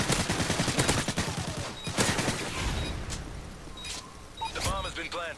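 Gunfire in Call of Duty Modern Warfare 3, rapid bursts of shots early on, then scattered single shots and game effects, with a voice talking over much of it.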